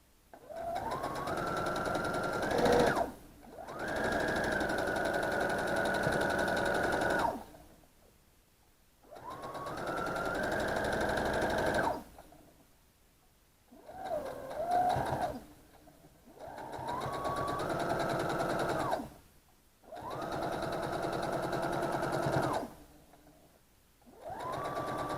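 A sewing machine runs in bursts of several seconds each, a rapid, steady stitching whir that rises and settles in pitch, with short silent pauses between runs.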